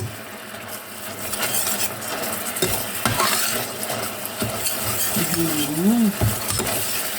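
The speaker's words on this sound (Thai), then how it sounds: "ผัดเครื่องแกงเลยนะ ใส่ขิงกับเครื่องแกงไปเลย" Thai curry paste and ginger stir-frying in a pan with coconut milk for an old-style chicken curry, a constant close sizzle broken by scraping stirs and the clinks of a utensil against the pan.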